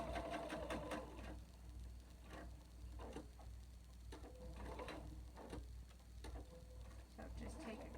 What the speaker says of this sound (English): the sewing machine has a little bit of difficulty, so you can just sew slowly